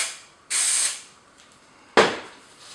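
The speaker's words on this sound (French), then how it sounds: "Un coup de spray." Spray adhesive is misted onto fiberglass for Iron Man Mark 7 armor in two short, close hissing bursts, the second sharper and fading out, with quiet pauses between.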